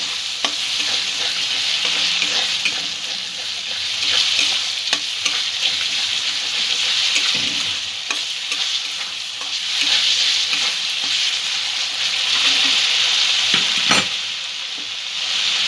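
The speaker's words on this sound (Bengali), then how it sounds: "সব কিছু আবারও ভালো করে মিক্স করে নেব।" A spoon stirs and scrapes through shol fish curry sizzling in a pan, a continuous bright frying hiss broken by repeated scraping strokes and clinks, close and busy, with no voices.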